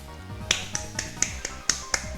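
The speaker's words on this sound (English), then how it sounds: "Clap." In the Higurashi When They Cry Hou game, a crisp clap or finger-snap effect sounds six or seven times at an uneven pace over soft background music.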